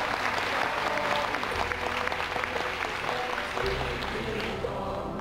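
A large audience at a Buddhist Dharma assembly claps steadily, a dense, sustained round of applause heard from within the hall.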